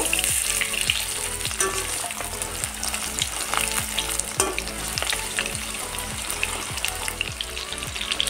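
Marinated chicken fries in hot oil in a wok for chilli chicken, with a loud, steady sizzle and crackle. A spatula scrapes and stirs at a regular rhythm throughout, and no one speaks.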